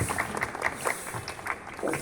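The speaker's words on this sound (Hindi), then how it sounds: "तालियों के साथ जोसेफ भैया का स्वागत कीजिए।" A small gathering at a Bible study session claps to welcome a speaker, scattered individual claps at uneven spacing rather than a full roar, moderately quiet and with no speech over them.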